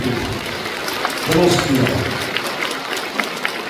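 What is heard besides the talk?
audience applause at Buddhist ceremony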